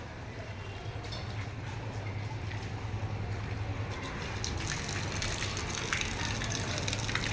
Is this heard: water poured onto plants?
yes